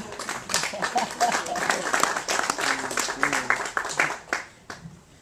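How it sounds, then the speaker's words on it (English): Applause breaks out from an audience after a poem reading, a burst of clapping with some voices mixed in that rises, holds and then dies away toward the end. "Strange thing to give applause for."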